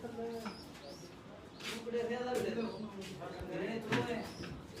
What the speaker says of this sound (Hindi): बहुत फाइन और बड़े समझदार कबूतर है।